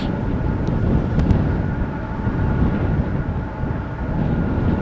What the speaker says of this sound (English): Behind it, we can see what looks like an Embraer also coming this way from KLM